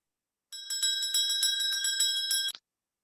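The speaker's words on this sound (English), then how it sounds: "let's go ahead and start with our bell" A bright, metallic bell rings rapidly and continuously for about two seconds, close and clear, then stops abruptly.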